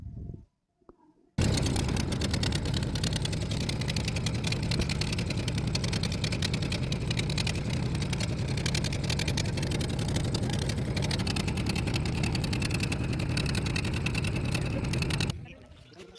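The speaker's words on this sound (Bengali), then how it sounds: "এই যে আমাদের ভটভটি এসে গেছে, আমরাও এবারে বেরিয়ে পড়েছি।" A bhatbhati motorboat engine near Bakkhali heading to Lalganj island drones loud and steady for most of the clip, close up and chugging evenly, after brief scattered sounds at the start and before cutting off at the end.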